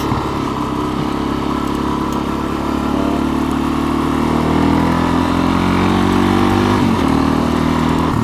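A Suzuki DRZ400SM motorcycle cruises at about 25 mph on a gravel and dusty hard-top road, its steady single-cylinder engine drone loud and constant throughout, with light wind and road rumble underneath.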